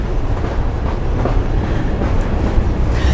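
Steady low rumble and rattle from inside a moving train carriage, continuous and fairly loud, with no voices.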